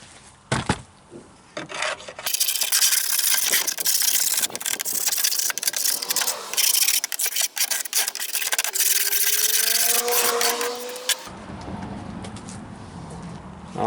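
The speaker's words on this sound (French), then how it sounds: "Donc on vient tout gratter premièrement et après on va venir javeliser pour désinfecter." A tool scrapes debris off the wooden floor of a beehive while it is being cleaned before bleaching: about nine seconds of loud, continuous, close rasping, with brief gaps and a faint squeak near the end.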